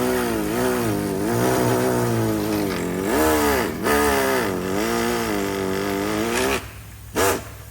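A power tool cuts a notch into the trunk of a C8 Corvette, its high whine running continuously and dipping in pitch several times as it bites into the material, then cutting off briefly before one last short burst.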